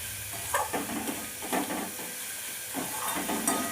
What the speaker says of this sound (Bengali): ভালো করে নেড়ে চেড়ে পেঁয়াজের সাথে মিশিয়ে নেব।